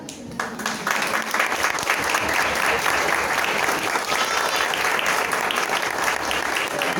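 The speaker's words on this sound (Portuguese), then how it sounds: "queria que a igreja toda se levantasse, primeiro para bater palmas" A large church congregation, standing, claps steadily together, a dense, sustained wave of applause filling the room from start to finish.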